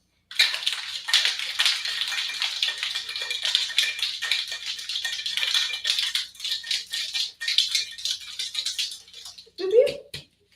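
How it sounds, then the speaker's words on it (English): Whip shake of a coconut mango mojito in a cocktail shaker, a fast continuous rattle of ice lasting around nine seconds, close and fairly loud, ending with a brief knock. "Going to go ahead and whip shake."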